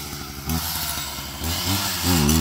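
A chainsaw engine drones loudly and steadily, its pitch rising in surges as the throttle opens, close by with no voices.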